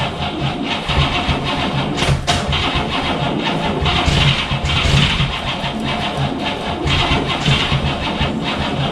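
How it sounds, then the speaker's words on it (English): An old, long-sitting Cadillac engine cranks and catches, then settles into a loud, rough idle with uneven throbbing pulses close to the listener. "So she started up."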